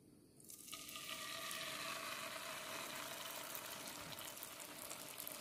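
Cucur cake batter sizzles steadily in hot frying oil after a ladleful goes in, a loud, continuous close-up crackle with no talking.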